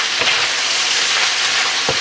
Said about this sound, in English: our green bean combo is cooking nice. Give it a little stir.